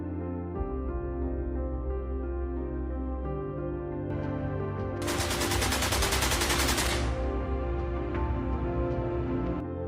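Period gunfire from a 1920s gangster setting, a Tommy gun alongside Browning automatic rifles, plays over a steady musical bed, with a dense burst of rapid automatic fire swelling loud for a couple of seconds midway before falling back.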